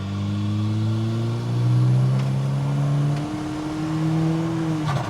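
A turbocharged Toyota Hilux engine pulls hard under boost, a steady, loud drone rising in pitch across several gears with a brief dip midway, heard from inside the vehicle with no talk.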